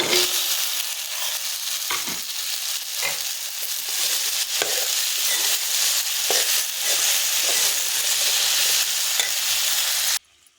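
Okra frying in hot oil with turmeric, a loud continuous hiss of close sizzling with a few soft stirring knocks, cutting off abruptly at the end.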